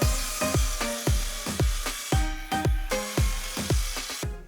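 A saw cuts through thin quarter-inch plywood, giving a close, loud series of regular rhythmic strokes, each stroke a sharp rasping burst, repeating steadily about every third of a second.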